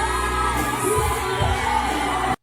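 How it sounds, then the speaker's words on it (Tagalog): A live audience screams and cheers continuously during a singing performance, a dense, loud wall of yells and whoops with no break until it cuts off abruptly. "Sumisigaw na yung mga audience. Naririnig nyo ba?"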